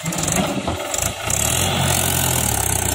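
A Mahindra 575 DI tractor idles with a steady low engine rumble and a rhythmic thrum, close and continuous, its note firming up after a brief dip around mid-clip.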